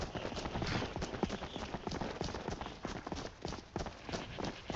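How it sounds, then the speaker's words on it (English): Horse hooves clip-clop steadily in the Skyrim video game, a continuous rhythmic patter of hoofbeats up close with no pauses. "The horse is here."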